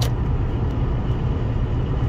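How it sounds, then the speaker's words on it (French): A steady low roar of air rushing past the windows of a moving Toyota hybrid on a fast road, constant and fairly loud with no speech. "les bruits d'air qu'on peut avoir, qu'on peut entendre au niveau des vitres"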